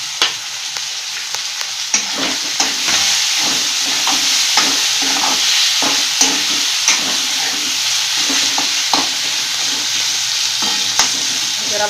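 Tomatoes frying in oil with ginger garlic paste for a spicy Indian chicken gravy, a steady loud sizzle broken by regular scraping stirs close to the pan, with no voices.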